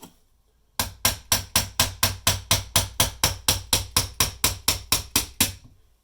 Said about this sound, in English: tapping on your knife with a hammer